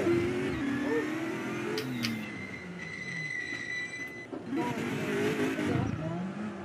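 A race car engine in the RaceRoom driving game revs and whines with tire squeal, steady and fairly loud under a young voice talking excitedly.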